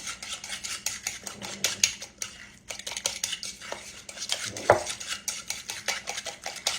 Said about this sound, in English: now we're going to mix our banana and our eggs together real good